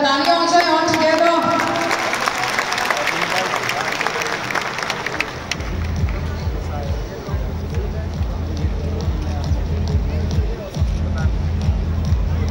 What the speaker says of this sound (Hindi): हमारे सभी नए topaz leaders के लिए आप सभी की तरफ से जोरदार तालियां हो जाए